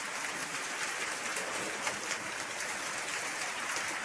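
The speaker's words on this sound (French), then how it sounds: "Regardez-moi ce déluge" Heavy rain pours down in a steady, dense hiss of drops, loud and continuous with no pauses throughout.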